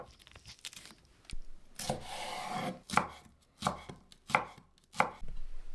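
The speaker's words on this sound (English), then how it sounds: "Cut 1 sweet pepper into pieces." A knife chops a sweet pepper into pieces on a board, first with faint scraping and cutting, then a series of distinct, evenly spaced chops at close range.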